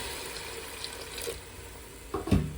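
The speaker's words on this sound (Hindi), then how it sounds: "अब इसके अंदर हम 1 लीटर पानी ऐड कर देंगे" Water poured into a pot of browned beef cooking for a degi white beef dish, a short splashing burst near the end after quiet kitchen background.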